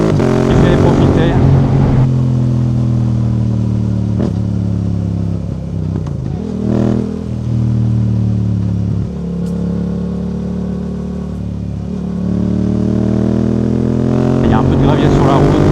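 Yamaha R7 motorcycle riding on the road with a quickshifter, its loud steady engine drone holding pitch between brief dips and pops of gear changes, heard close from the rider's position with a voice talking over it.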